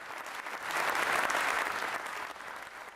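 Applause in the House of Commons chamber during Prime Minister's Questions, a brief swell of clapping from the benches, moderately distant and fairly faint.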